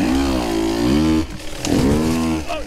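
A KTM 150 two-stroke dirt bike engine revs hard, rising and falling in pitch in two distinct bursts with a brief dip between, loud and close, with no talk.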